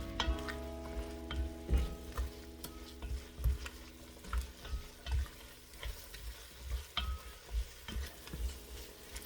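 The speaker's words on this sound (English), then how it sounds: "add in my mushrooms. Stir those in." Mushrooms being stirred into a pot of chicken pot pie soup, a series of regular scraping and sloshing stirs close by over a faint sizzle and low hum, no talking.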